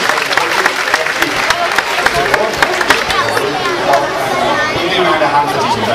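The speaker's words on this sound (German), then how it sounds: "viel Applaus für Herr Nummer 2" Circus audience applause in a big-top crowd, dense clapping mixed with loud chatter and crowd noise, busy and close throughout with voices woven into it.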